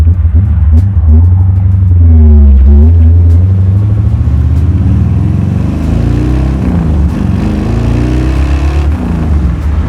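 A 1932 Ford roadster hot rod with a big-horsepower engine revs hard, a deep, loud rumble rising and falling in pitch through several throttle blips, up close and with no talk over it.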